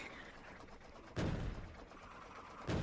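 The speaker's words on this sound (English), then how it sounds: "There's a cannon firing." A cannon fires in the video game Factorio: two sharp, fairly quiet booming bursts about a second and a half apart over a low background hum.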